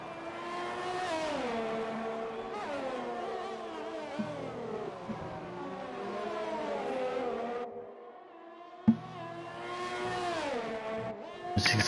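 A Formula 1 car in a racing video game on a Hanoi circuit, its high-pitched engine rising and falling through gear changes, revving hard, easing off briefly into near silence, then accelerating again.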